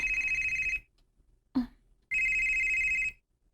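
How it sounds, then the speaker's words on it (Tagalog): A telephone rings in two loud, steady electronic bursts, each close to a second long, separated by a short gap with a brief thump between them. "May nanawag."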